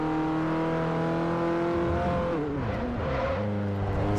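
A small Citroen city car engine racing in the Forza Motorsport 4 video game, a loud sustained drone that rises through revs, dips with gear changes, then climbs again.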